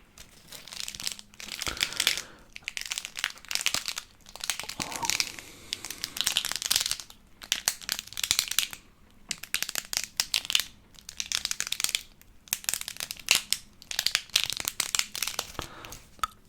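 Dry wooden reed diffuser sticks rustle, click and crackle in close, irregular bursts as they are handled, with brief quiet pauses between clusters.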